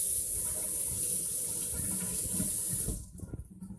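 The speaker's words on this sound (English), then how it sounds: "let me wash my hands" Kitchen tap running hard into a sink while hands are washed, a steady close gush that cuts off near the end, leaving a few small drips and splashes.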